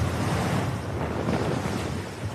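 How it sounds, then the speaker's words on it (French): Force 8 west-southwest wind and a heavy southwest swell with 8–9 metre troughs around the tall ship Hermione, heard as a continuous broad roar of wind and surging sea, steady and unbroken, no voices. "on a un vent ouest-sud-ouest, force 8. Une mer forte avec une houle de sud-ouest"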